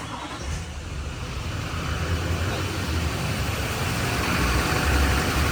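A Chevrolet Silverado Duramax 6.6 diesel 4x4 engine starts up and settles into a steady, close-up idle, with a low, even rumble that holds for several seconds.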